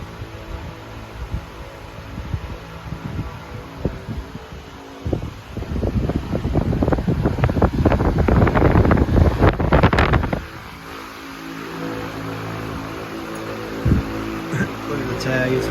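Strong airflow from a vintage Freshnd Aire 26-inch table fan, Model 2600, rushes and buffets against the microphone in loud gusts that peak midway and then settle into a steadier whoosh.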